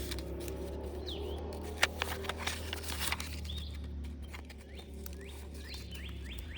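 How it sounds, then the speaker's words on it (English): Small birds chirp in short, scattered calls against a quiet outdoor background, with a few faint taps and clicks. "You can hear all the birds, everything."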